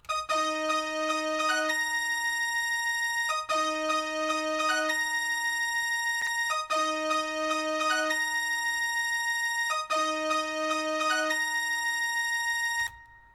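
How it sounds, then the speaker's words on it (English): A bright, high synthesized brass line repeats a short phrase four times, with sustained chords and quick stabs, played alone at moderate volume. "So the next sound I did was a even higher brass, which sounds like this."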